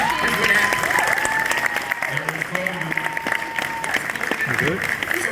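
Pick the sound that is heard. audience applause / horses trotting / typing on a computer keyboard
audience applause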